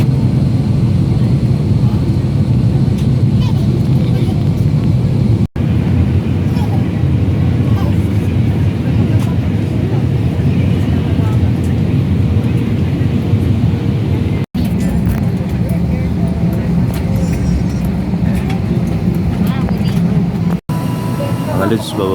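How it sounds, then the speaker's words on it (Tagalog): Loud, steady low rumble inside an airliner cabin during a flight to Manila, droning continuously with a few brief dropouts while someone talks over it. "Nasa loob kami ng aeroplano mga lods."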